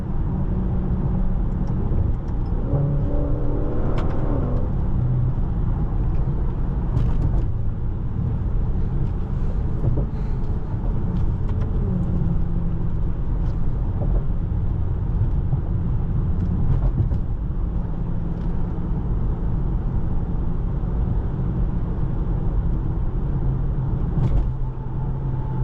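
A 2019 Maserati Levante Trofeo SUV with a 590 hp engine driving on city streets, its steady low engine drone and road rumble heard from inside the cabin, with some wind noise and no talk.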